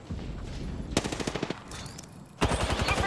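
Video game gunfire, bursts of rapid automatic shots that come in two loud sustained volleys separated by a quieter stretch, with game noise between them.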